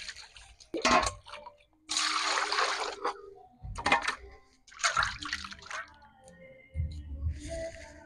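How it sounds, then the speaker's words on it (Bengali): River-caught aar fish are washed by hand in water, with splashing, squishing handling and dripping in uneven bursts separated by brief pauses, heard close up. "মাছগুলো ভালো করে ধুয়ে নেই।"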